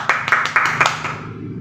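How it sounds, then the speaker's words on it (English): A classroom group gives a brief burst of applause: a handful of quick, close claps over about a second, fading out fast. "let's give everybody a round of applause for doing well in the first activity"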